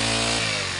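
A 4-stroke brush cutter engine revs loudly and close by, holding a high buzzing drone that drops slightly in pitch partway through.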